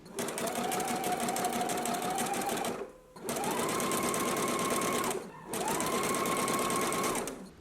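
A domestic sewing machine zigzag-stitching over yarn to gather the lower edge of a garment sleeve, running in three steady bursts of whirring motor and needle clatter with short pauses between, fairly close and unaccompanied.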